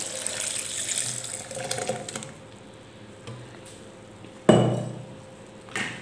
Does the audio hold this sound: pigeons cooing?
no